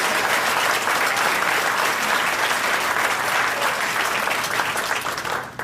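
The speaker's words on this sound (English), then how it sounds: "Give them a good round of applause." An audience at a school recognition banquet gives a round of applause, a dense, even wash of many hands clapping that holds steady before dropping off at the very end.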